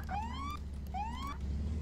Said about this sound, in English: I'm turning on my siren just so they know we are here